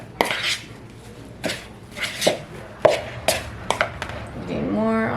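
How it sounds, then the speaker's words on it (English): A spoon stirs rosemary into gyro meat in a bowl, with irregular scraping and sharp taps against the dish, close and moderately loud over about five seconds. "Use the spoon to stir that up in"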